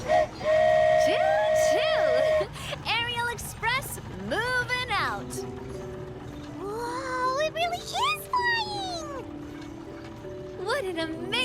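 Flying train in Genshin Impact, a long steady whistle tone opening loudly, then game music with rising and falling melodic sweeps and faint chatter continuing underneath.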